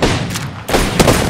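Bursts of gunfire from an Apex Legends match, a loud rapid volley cutting off briefly and then resuming as another close, dense burst with sharp shot transients.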